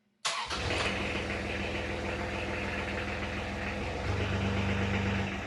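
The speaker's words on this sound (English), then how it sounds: "You just leave it on idle there" A Spartan VM1000 engine catches with an abrupt start, then settles into a steady, close, rumbling idle that holds evenly with a slight shift in tone near the end.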